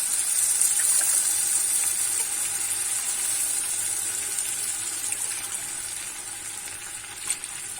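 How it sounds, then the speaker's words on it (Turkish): Water, three tea glasses' worth, pours into a cooking pot in a steady hissing gush that gradually thins and fades near the end, followed by a small clink. "İçerisine de 3 çay bardağı su koyuyorum."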